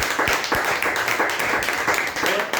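An audience at a motivational speech event breaks into dense, continuous clapping that is loud and close, with some voices mixed in.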